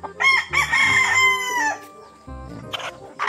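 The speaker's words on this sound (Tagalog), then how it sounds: "yung mga manok nila rito" A rooster crows loudly and close among the flock of chickens on a farm in Sapang Dayap, San Ildefonso, Bulacan, a long cock-a-doodle-doo followed by shorter clucks and a second bird calling near the end.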